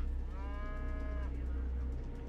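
A single cow lows in a drawn-out moo lasting about a second within the Wasteland 2 video game, set over a low steady rumble of game ambience.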